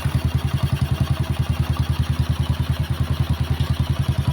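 A Honda XRM 110 motorcycle engine idles with a fast, even putter, each beat a regular low thump, close and continuous throughout.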